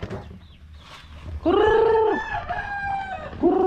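Native chickens at feeding time, soft clucks first, then a loud, close rooster crow that starts to repeat at the end.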